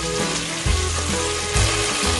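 Garlic sizzles in oil in a small saucepan, a steady close crackling fry with occasional low knocks of stirring, no voices.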